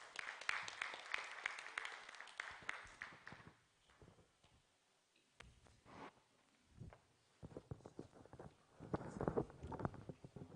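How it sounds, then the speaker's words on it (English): Audience applause at the Africa Real Estate Conference & Expo 2022, a burst of clapping at the start that fades out, followed by scattered handling noises and a second swell of clapping near the end. "a round of applause for him"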